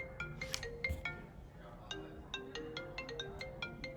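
A phone ringtone plays as a series of short, bright repeating chimes over about four seconds, moderately loud against a low background hum, with no talking.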